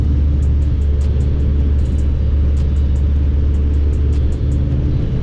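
A B20-engine-swapped Honda Civic on a test drive, giving a steady, loud in-cabin engine drone and road rumble throughout, with faint repeated ticks over it.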